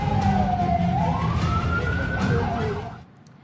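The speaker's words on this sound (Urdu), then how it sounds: "ایرانی حملوں کے بعد ایک بار پھر تل ابیب، مقبوضہ بیت المقدس، حیفا سمیت کئی شہروں میں سائرن بجائے گئے۔" An air raid siren wails across an Israeli city such as Tel Aviv, Jerusalem or Haifa, one loud tone slowly rising and falling for about three seconds before cutting off and leaving quiet.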